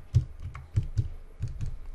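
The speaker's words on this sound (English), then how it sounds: "Now type your computer password" Someone types a password on a computer keyboard, a handful of soft, close keystrokes landing in uneven bursts with a brief pause midway.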